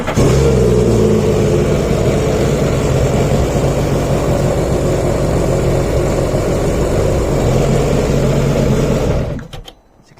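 Seadoo Fish Pro jet ski with a 170 horsepower 1.6 litre engine running loud and close, a steady droning roar that holds for about nine seconds before cutting off abruptly.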